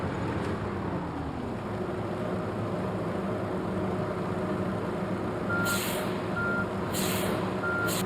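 A bus in The Bus game idles with a low steady engine rumble, then its reversing alarm sounds three evenly spaced beeps near the end, clear and close with no talking.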